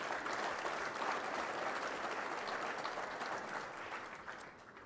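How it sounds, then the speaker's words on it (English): Audience applause for event sponsors at a government conference on natural resource management, a dense steady clapping from a mid-sized crowd that holds level throughout and thins slightly at the end. "give them a round of applause so they feel appreciated"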